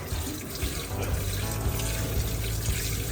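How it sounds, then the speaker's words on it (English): Water gushing from a tap into a newly built sink and flooding its drain system, a loud steady rush and splash at close range, continuous throughout with no talk. "we're just gonna kind of flood the system with as much water as possible"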